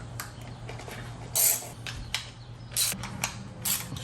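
A ratchet tightens the valve cover bolts on a Subaru STI with a Hawkeye engine. It gives several short bursts of close, sharp clicking, with brief pauses between strokes.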